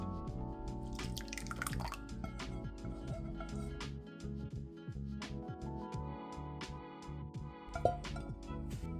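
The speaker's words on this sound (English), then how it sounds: "we're going to strain it through, well, this is a nut milk bag and you can use muslin cloth too" Infused coconut milk for Thai tea kaya drips and trickles through a nut milk bag, a quiet, steady patter of liquid with small irregular splashes.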